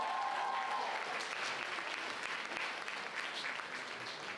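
A crowd at the Miss International Finland 2025 pageant final gives sustained, even applause, with a brief tonal note at the start before the clapping carries on alone.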